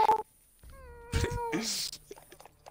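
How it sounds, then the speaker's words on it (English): A cat meows once, clear and close, between brief sharp noises, with faint background hum and a short voice sound at the start. "if I hear a meow outside my window"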